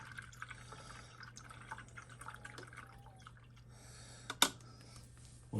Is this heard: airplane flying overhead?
no